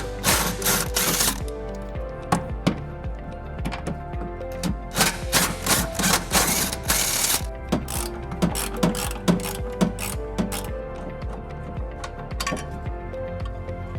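An impact or ratchet tool spins out the tow hook bolts on a 2012 Nissan Rogue, producing dense rattling clicks and metallic clinks in repeated close, loud bursts for the whole stretch, with no one speaking.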